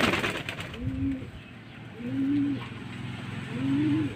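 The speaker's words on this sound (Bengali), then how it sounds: "আর কিছু পায়রা এই মাটি খাচ্ছে এখন" Pigeons coo after bathing, with three evenly spaced low, rising calls heard over a steady background rumble and faint water sounds.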